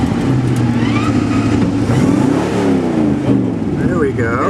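A 1957 Austin Healey 289 V8 drives over rough streets in Carnation, its engine a loud, steady rumble that climbs and falls in pitch as it accelerates and shifts, heard from inside the car with someone talking over it.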